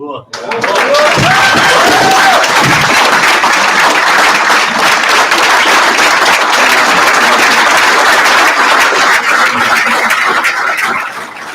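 An audience in a hall gives loud, sustained applause at the Dustoff Hall of Fame induction, with dense clapping and a few cheers that rise quickly and hold steady before easing off at the end.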